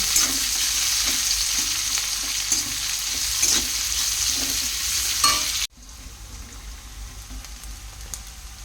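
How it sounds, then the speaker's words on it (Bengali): Chopped onion and green chili frying lightly in a pan, a steady hiss with soft stirring scrapes, which drops abruptly to a quieter sizzle partway through. "পেঁয়াজ আর লঙ্কাটা আমি হালকা করে ভেজে তার মধ্যে আমি সবজিগুলো অ্যাড করব।"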